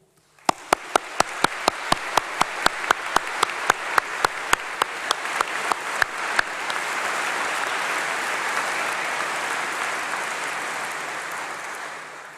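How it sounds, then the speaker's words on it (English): Graduation audience in a great hall bursts into loud, sustained applause for the staff, opening with a burst of sharp, distinct claps and settling into a dense, even roar of clapping that carries on to the end. "So perhaps we can give a huge round of applause to all the staff who've helped you along the way."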